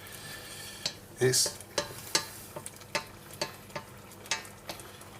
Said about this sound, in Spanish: ir dándole vueltecitas a nuestro arroz, que al mismo tiempo lo que hace es que suelte todo ese almidón que tiene el arroz